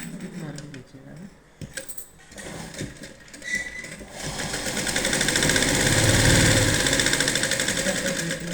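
A sewing machine starts up partway through and runs with a fast, steady whirring stitch while a blouse is sewn, heard close. Handling noises and a voice come before it.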